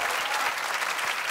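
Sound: studio audience applauding

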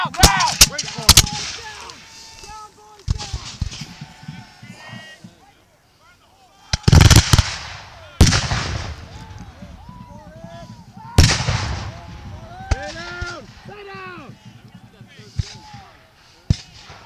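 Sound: gunfire and artillery at Revolutionary War battle reenactment

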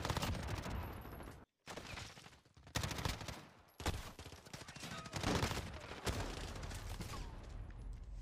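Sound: MP5 submachine gun hip fire in a video game

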